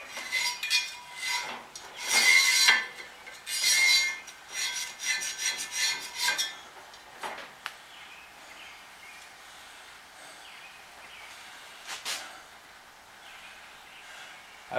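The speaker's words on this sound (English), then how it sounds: "clean some of this sawdust out of the wheel" Scraping and brushing at a 14-inch wood bandsaw wheel to clear out sawdust, with irregular rasping bursts close by in the first half that thin out into quieter intermittent scrapes and a few sharp ticks.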